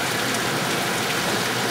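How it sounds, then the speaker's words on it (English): Heavy tropical rain pours down steadily, a dense, continuous hiss of drops with no voices, holding level throughout. "this is a real tropical downpour."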